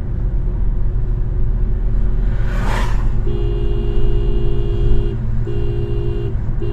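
A car engine rumbling loudly nearby, a steady low drone with a brief rushing swell partway through and a sustained tonal hum joining later, with no one talking.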